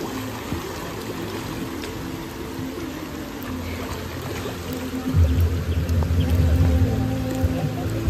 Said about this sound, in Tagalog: Bagong shower dito.